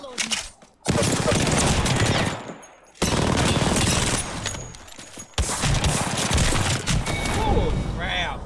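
Rapid video-game shotgun fire from a Mozambique, loud bursts of blasts in three long stretches separated by short pauses, with a voice talking over parts of it.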